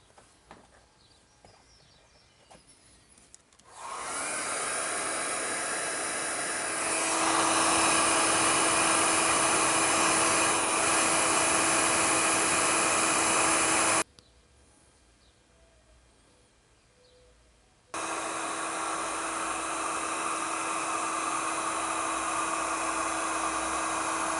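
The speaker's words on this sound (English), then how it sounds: "Got my heat gun." A loud, steady heat gun whirs continuously, stops for a few seconds, then starts up again at the same even pitch.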